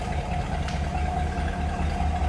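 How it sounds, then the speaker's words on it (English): A 1956 Ford Fairlane Crown Victoria idles, heard from the rear where the exhaust exits through the bumpers, a steady low rumble throbbing evenly and close, with no talk. "Let's go ahead and check out how this car sounds from the rear."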